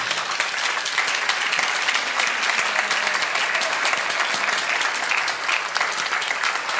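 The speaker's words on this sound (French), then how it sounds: "Merci, on peut vraiment les applaudir." An audience applauds the speakers after a panel discussion on Christianity, with steady, moderately loud clapping from many hands continuing at an even level throughout.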